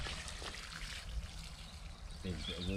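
Water trickles and splashes steadily onto soil and cauliflower plants at a UK allotment, with faint background rustle and a low hum from outdoors.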